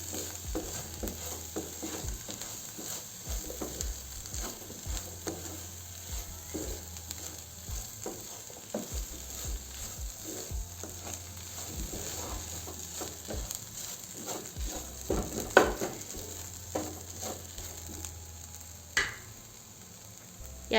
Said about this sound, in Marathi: यात बारीक केलेले आलू घालू आणि चांगल्याने फिरवून घेऊ।